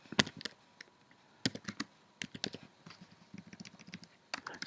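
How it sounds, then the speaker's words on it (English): Keys clatter on a computer keyboard in uneven bursts of one-handed typing, close and fairly quiet, with short pauses between runs of clicks and no talking. "It's like I'm typing with one hand."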